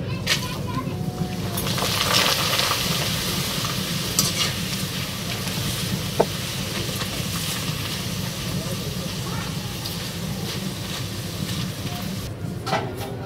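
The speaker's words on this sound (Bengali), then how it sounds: "তেল গরম হয়ে গেছে, পাঁপড় ভাজবো" Papad frying in hot oil, a loud and steady bubbling sizzle that runs the whole time with occasional small clinks and crackles near the end.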